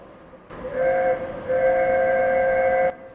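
A custom MP3 sound plays through the pedestrian warning speaker of a Tesla Model 3, heard as a steady sustained whistle-like tone that starts, breaks briefly, resumes and then cuts off cleanly after about two and a half seconds.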